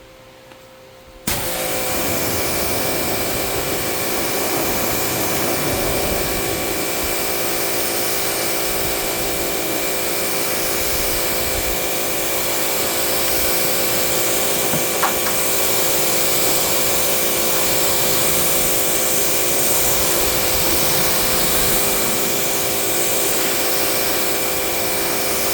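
A car being rinsed of soap with water sounds like a loud, steady hiss of spray that starts abruptly and runs without a break, close and constant throughout.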